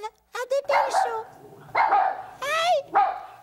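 Short dog barks and yips ring out in bursts, loud and close, between excited shouting in French on a comedy program.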